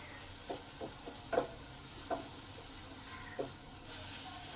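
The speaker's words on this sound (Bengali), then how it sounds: "এই টমেটোটাকেও মশলার সঙ্গে ভালো করে 4 থেকে 5 মিনিট কষে নেব" Tomato frying with spices in a pan for a Bengali rui fish curry with potato and bori, a soft steady sizzle under light scraping stirs at intervals, fairly faint and with no talk.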